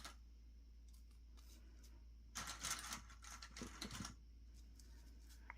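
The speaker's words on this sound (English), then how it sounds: "we're gonna sew it at an 1/8, baste it right here" A sewing machine runs in short bursts while basting zipper tape at an eighth-inch seam on a pouch, with a couple of quick stitching runs in the middle and faint handling clicks around them in a quiet room.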